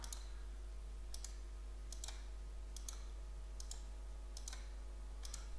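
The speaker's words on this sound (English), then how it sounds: "I'm gonna do a right click" Computer mouse clicks while working in 3DS Max, six crisp, evenly spaced clicks roughly a second apart over a steady low hum, with no talking.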